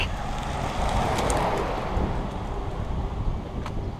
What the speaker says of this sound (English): that wind is very, very strong